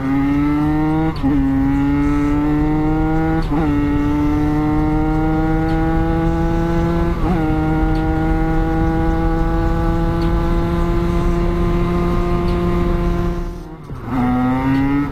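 A Derbi motorcycle engine buzzes loud and close, holding a steady high rev that climbs through several gear shifts, each marked by a brief dip before the tone rises again.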